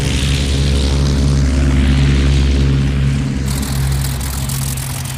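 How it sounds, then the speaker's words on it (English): German twin-engine Gotha bombers of the First World War fly by, a loud, steady droning propeller engine roar with throbbing low tones that holds close and then eases slightly. "the twin-engine Gothas."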